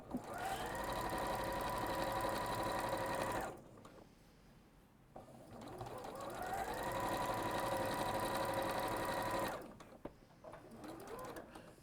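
A sewing machine stitches Liberty fabric in two long, steady runs of rapid whirring separated by a short pause, close and loud, with no talking over it.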